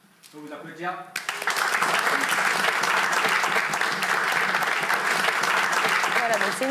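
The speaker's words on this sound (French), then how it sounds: "Je peux vous applaudir." After a brief spoken prompt, a French audience breaks into loud, sustained applause, dense clapping that fills the room steadily for several seconds.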